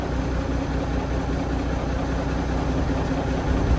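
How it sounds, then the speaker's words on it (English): A big 150 horsepower turbo tractor engine idling on a cold day, a loud, steady, unbroken rumble close by with no voices. "It's a big old 150 horsepower turbo."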